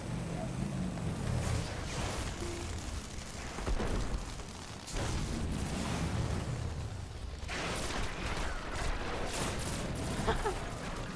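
Video game gunfire rattles in dense, loud bursts mixed with booming explosions, continuing steadily for several seconds without pause.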